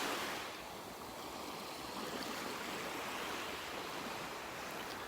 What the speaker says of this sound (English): It's like right after a wave goes by is usually where the fish are